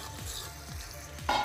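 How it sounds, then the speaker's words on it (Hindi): Chicken karahi fries in a pan as yogurt is stirred in, a steady sizzle with a few soft scraping strokes and a brief louder burst at the end. "अब दही को इसमें अच्छी तरह मिक्स कर लेंगे।"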